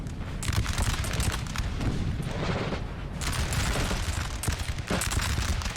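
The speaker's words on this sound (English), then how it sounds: "He's being shot by artillery still." Artillery and massed musket fire in Napoleon: Total War at the 1814 battle of Montmirail, a dense, continuous crackling fusillade with heavy booms mixed in, loud and unbroken throughout.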